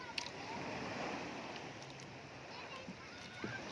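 Rough, choppy sea water splashes and rushes steadily around a small boat, a dense, continuous wash with occasional sharper slaps against the hull.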